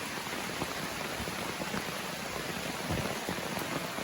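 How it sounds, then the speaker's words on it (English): Steady rain patters on a tent at night on the Appalachian Trail, a dense, even hiss of drops with occasional louder taps, heard from inside without any voices. "fall asleep to the sound of the rain"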